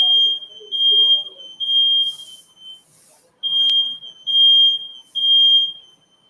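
A kitchen smoke alarm set off while chicken and coconut vegetable rice cook, sounding a loud, piercing electronic beep in repeated bursts separated by short gaps, near and dominant over faint background clatter.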